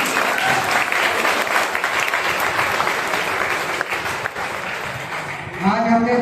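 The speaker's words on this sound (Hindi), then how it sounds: "एक बार प्रभु जी के लिए जोरदार तालियां हो जाए।" An audience at a youth drama festival performance claps in loud, sustained applause that holds steady for several seconds and then tapers slightly near the end, when a voice starts to come through.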